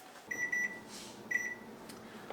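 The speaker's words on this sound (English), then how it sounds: "All right, our timer just went off." A kitchen timer beeps while cornbread bakes: two short, clear electronic beeps about a second apart, close but quiet over a soft room hum, with no talking.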